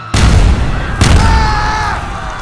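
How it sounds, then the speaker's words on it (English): Two heavy booming explosions on city streets in an audio drama, the first sudden and loud, the second following about a second later, each trailing into a long rumbling decay with a faint high ringing. "War clapping his hands together to produce explosions on the streets below"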